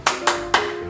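Three sharp, evenly spaced hand claps ring out close and loud in a classroom as encouraging tepuk semangat for young pupils, each one crisp and followed by a brief decay.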